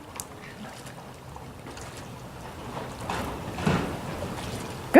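A child paddles a kayak on Patagonia Lake, with steady water wash and wind rumble that build slightly toward the end before a sharp knock at the close.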